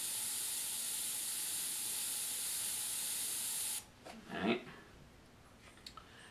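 A steady, close hiss of a spray bottle misting fine paint runs for several seconds, then stops, followed by a few faint clicks and a brief squeaky rustle.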